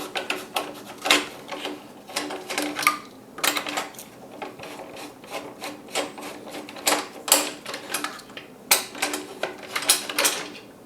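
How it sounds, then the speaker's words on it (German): A hex key loosens screws on a 3D-printed holder mounted to a P1-X sim racing rig, giving irregular close metallic clicks and light rattling ticks in quick bursts, with no talking. "Ich nehme hier wieder ganz normal meinen Hexkopf. Drehe hier die Schrauben lose."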